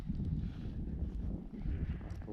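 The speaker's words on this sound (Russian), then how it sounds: "Ветер что-то поднимается" Wind gusting by a forest river in deep winter, a low rumbling buffet of microphone wind noise that swells and eases over a couple of seconds, with no voices.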